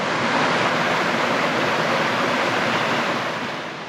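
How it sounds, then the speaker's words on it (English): Water cascading down a creek line in the Blue Mountains near Lawson, a steady, dense rushing wash that stays loud and even throughout, fading slightly at the end, with no voices. "then it just turned into like a cascading creek line"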